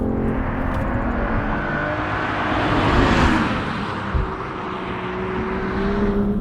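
A 2021 BMW M440i xDrive's engine pulls hard under sensitive throttle, a steady broadband roar from inside the car that swells to a peak mid-run, then eases and settles at a constant level, with no talk.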